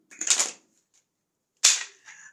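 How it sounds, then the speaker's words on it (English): Tarot cards being shuffled outdoors, heard as two short, crisp riffling bursts close by, separated by a brief silence. "shuffle it properly."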